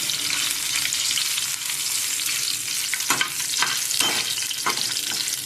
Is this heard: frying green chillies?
yes